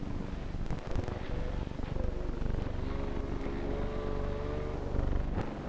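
Racing boat engines roar past the last buoy at the finish line, a dense rumbling drone with rising whine that swells and fades, heard at middle distance on an old film soundtrack.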